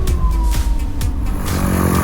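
Electric motor of a small electric aircraft flying over Christchurch, New Zealand, heard from inside as a loud, steady, fan-like whirring drone with a sustained tonal whine and no voices.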